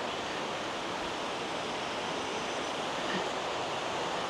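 Close, continuous roar of a flowing river, broad and unbroken from start to finish, with no one speaking over it.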